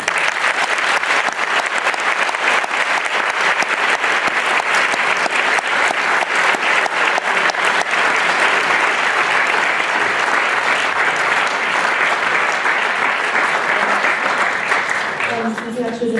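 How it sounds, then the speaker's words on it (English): A church event audience claps in sustained, dense applause for about sixteen seconds, loud and even throughout, tapering slightly at the end. "I just want to get another round of applause for Aiden."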